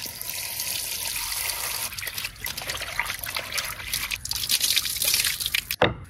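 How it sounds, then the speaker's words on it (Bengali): Water runs over fresh garden bottle gourd leaves being washed, a close, steady trickling and splashing stream with small irregular drips and rustles, a sharper splash near the end. "এবার লাউ পাতাগুলো ধুয়ে নেব।"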